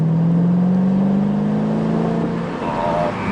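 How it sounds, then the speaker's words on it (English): A Mercedes SLK55 AMG with its stock AMG exhaust and the roof down gives a deep, continuous rumble that swells slightly as if revving, loud and close for a few seconds. "It's just the natural stock exhaust. AMG exhaust, yeah. And it just rumbles and sounds absolutely wicked."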